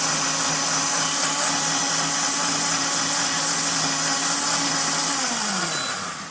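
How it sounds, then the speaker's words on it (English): A blender motor whirs steadily at high speed, a loud, continuous buzzing drone that winds down slightly at the very end. "This is a digital blender."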